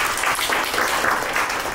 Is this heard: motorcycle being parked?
no